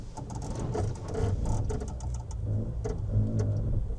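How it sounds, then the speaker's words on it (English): A 2026 Denza B5 climbs a hill in mountain mode, its low steady drive hum and rolling tyre noise continuous and fairly loud, with faint crunchy patter from the surface throughout and no talking. "Let's put it into mountain mode and see how it goes up."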